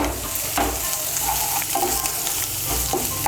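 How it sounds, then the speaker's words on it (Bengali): Chopped garlic, onion, grated ginger and green chili fry in a pan for a mixed dal tadka, a loud, close, steady sizzle with light stirring scrapes and no voices. "রসুন, পেঁয়াজ আর লঙ্কাটা ভেজে নেব"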